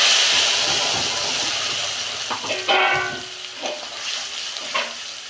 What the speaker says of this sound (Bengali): সর্ষে কাঁচা লঙ্কার পেস্টটা দিয়ে দিচ্ছি